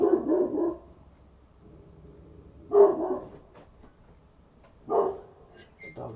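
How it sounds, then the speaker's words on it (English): A dog barks outdoors at night, three separate sharp barks spaced about two seconds apart, fairly close and alone, with quiet in between. "What are you barking at, a tree?"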